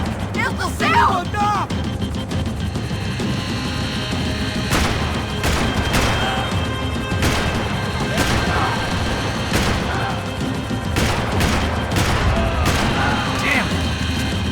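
Rapid bursts of gunfire from a Max Payne 3 firefight, sharp repeated shots and impacts scattered across a dense, noisy action mix with shouting voices in the background.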